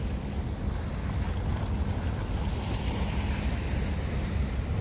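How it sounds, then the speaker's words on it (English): River water at night in New York City laps and splashes steadily against rocks, a continuous dense wash with some wind rumble, moderately quiet and with no talking. "the waves splashing against the rocks"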